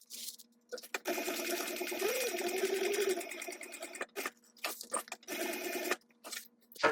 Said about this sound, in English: now we're going to top stitch this right down